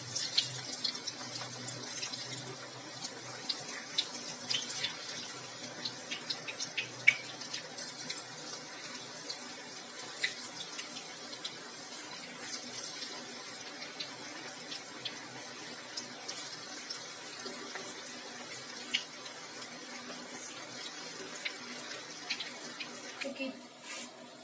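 Mixed vegetable pakora batter dropped into hot oil and frying, a continuous fine crackling sizzle with scattered sharp pops, moderately quiet and steady throughout.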